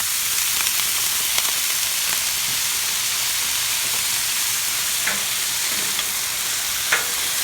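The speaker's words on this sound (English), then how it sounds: "so they get sizzling." Steady loud sizzling and hissing of vegetables frying on a hot Blackstone griddle, with occasional soft stirring clicks.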